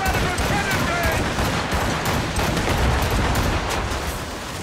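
Ship cannon fire in Assassin's Creed Rogue booms in a dense, continuous barrage amid the chaotic roar of naval battle, loud and close throughout.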